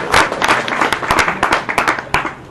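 Hands clapping in an irregular patter, several sharp close claps from a small group, loud and uneven over a couple of seconds.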